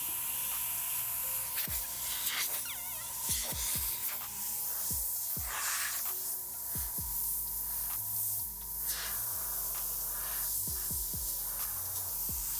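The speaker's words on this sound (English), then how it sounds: "Couple stars up top. Airbrush stars." An airbrush sprays paint onto a shirt with a continuous airy hiss that swells in short passes, mixed with light taps and knocks from handling nearby.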